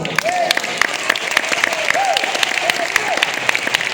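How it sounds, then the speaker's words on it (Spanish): A church congregation claps during a pastor's sermon, steady moderate applause with a voice briefly audible over the clapping. "de un aplauso al Señor"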